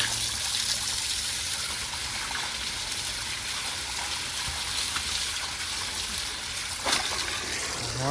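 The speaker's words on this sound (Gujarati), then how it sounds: "મોટરમાં આવે તાજું પાણી" Fresh, cold water pours steadily from a motor pump at a village farm in Botad, making a continuous, even rush with no speech.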